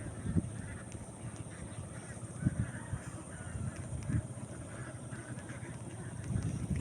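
Ducks quack and honk in a loose flock nearby, scattered raspy calls rising over a low outdoor background at a moderate distance.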